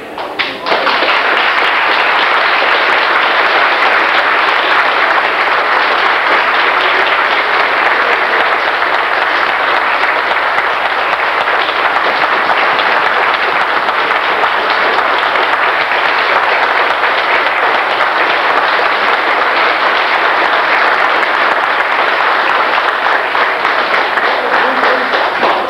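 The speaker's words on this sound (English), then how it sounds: "please stand while we give you a long round of overdue applause of appreciation" A long, sustained round of loud applause from a standing reunion crowd honouring former Geco plant workers, dense steady clapping holding for about twenty-five seconds with no break.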